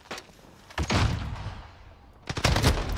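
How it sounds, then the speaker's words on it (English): Gunshots in Modern Warfare during a 1v1 match, a few heavy, booming reports spaced apart, then a tight cluster of loud shots, close and punchy with no talking over them. "I shot at him!"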